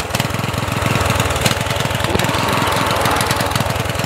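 A lawn tractor engine runs steadily up close, a loud continuous mechanical drone with a fast pulsing beat, no talk over it.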